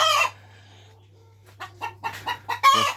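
Hens cackling loudly in a poultry shed, a short burst at the start then a rapid series of sharp clucks building to a loud cackle, close and alone over a low steady hum.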